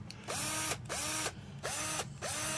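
A DeWalt power drill runs in four bursts of under a second each, with short silent gaps between, loud and close and with no voices.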